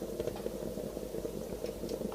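Bath water bubbles softly and continuously, a faint, busy burble of small popping bubbles with gentle fluttering, heard alone without voices.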